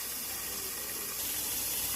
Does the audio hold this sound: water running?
yes